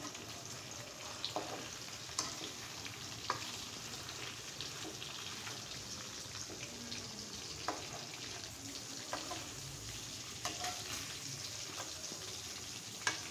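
Soft hilsa fish frying in a pan while being turned, a continuous close crackling sizzle dotted with faint pops and occasional light utensil taps, no voices.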